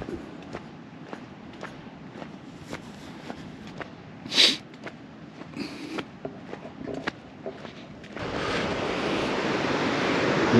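Steady broadband rush of water from a dam outflow pipe on Sardis Lake, building louder toward the end, with a few light clicks and wind buffeting the microphone.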